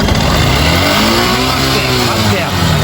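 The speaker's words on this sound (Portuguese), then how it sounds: "Acelera a moto aí, vai lá." A Yamaha Crosser 150 motorcycle with a faulty, noisy engine revving up close, a loud rough continuous roar with rising and wavering pitch, and someone talking over it.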